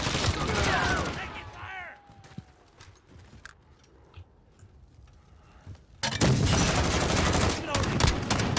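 Shotgun blasts and gunfire in a Call of Duty Modern Warfare team deathmatch at the Shoot House map, loud bursts at the start and again near the end with quieter game ambience between, a voice briefly calling out.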